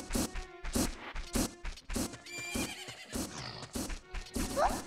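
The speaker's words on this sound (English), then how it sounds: "These horses sound like they're just spitting everywhere." Horses in Ocarina of Time snort and whinny in repeated loud bursts, a rhythmic series of close, harsh blasts with some clattering game sounds mixed in and no talking.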